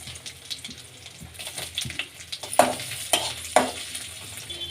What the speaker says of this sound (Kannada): ಎಣ್ಣೆ ಕಾಯ್ದಿದೆ ಉದ್ದಿನ ಬೇಳೆ ಹಾಕ್ಕೊಳ್ಳೋಣ ಈಗ ಶುಂಠಿ ಬೆಳ್ಳುಳ್ಳಿ ಹಾಕೋಬೇಕು